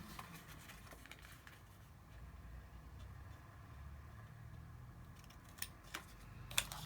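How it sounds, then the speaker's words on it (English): Scissors cut off small pieces at the bottom of something, with a few faint snips near the end over a low steady background hum. "we're going to cut out this one, cut off"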